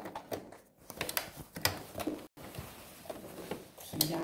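A sewing machine stitches slowly along a zipper as it is replaced, with irregular clicking, ticking mechanical bursts and a short pause midway.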